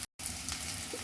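Chopped onion, crushed garlic cloves and dried red chillies sizzle in hot tempering oil with popped mustard and cumin seeds, a steady close frying hiss after a brief gap of silence.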